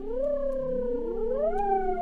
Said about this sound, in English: we've changed the sound from the bright swell pad